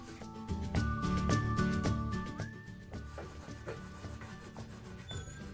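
Scrubbing grease off a rusty, well-used pan makes repeated rough rubbing and scraping strokes, close and fairly quiet, in an uneven rhythm with no talking.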